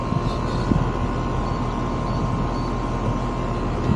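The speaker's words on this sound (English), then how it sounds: "the compressor should be happier running with that capacitor in there" Steady mechanical hum of a Goodman air conditioner compressor running after a new capacitor is fitted, a constant low drone with a faint tonal whine and small bumps, no speech.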